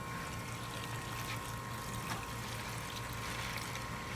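Water flows steadily out of an all-grain homebrew brewing system, a constant gushing, trickling wash with a faint pump hum underneath, moderately quiet and unbroken.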